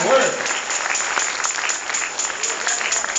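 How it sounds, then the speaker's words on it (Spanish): Church congregation gives a round of applause during a sermon, a continuous wash of clapping from many hands, moderately loud, with a voice faintly audible at the start. "usted le da un aplauso a esa palabra"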